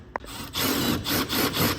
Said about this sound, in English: we've got to drill a hole into the felt